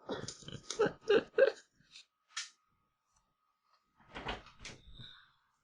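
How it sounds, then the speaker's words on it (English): A dog opens a door indoors, heard as a short series of knocks and clicks from the latch and wood, then a creak and a further rattle after a pause. "She was actually able to open the door."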